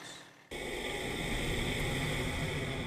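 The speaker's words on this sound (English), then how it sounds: "For Kathy Ebler, the sound of her furnace kicking on was a bit of a warning sign" A furnace fires up with a sudden jump into a steady, loud broadband roar and hum that holds evenly after a quiet start.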